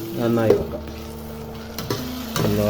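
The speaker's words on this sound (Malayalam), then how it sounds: "ചെറുനാരങ്ങ നീര് ഒഴിച്ചു കൊടുത്ത് ഇനി ഒന്ന് നന്നായി ഇളക്കാം." Chicken manchurian is stirred in a sizzling pan just after lemon juice goes in, with short bursts of scraping and frying noise close up, and a voice briefly heard between strokes.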